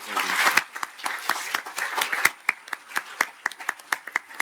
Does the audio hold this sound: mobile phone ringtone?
no